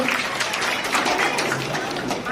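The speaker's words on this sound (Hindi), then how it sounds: "तो जोरदार तालियां बजानी चाहिए सब लोगों से।" Loud, steady applause from a crowd at the inauguration of a 3D Fitness Dance Academy, sustained clapping filling the whole moment with a few voices mixed in.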